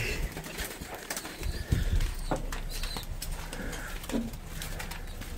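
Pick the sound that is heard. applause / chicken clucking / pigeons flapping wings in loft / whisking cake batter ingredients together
pigeons flapping wings in loft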